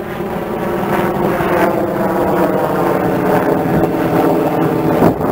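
A modified Bayangtoys X16 GPS quadcopter drone descends, its rotors giving a loud, close, continuous whirring drone with some wind buffeting on the microphone and no talk.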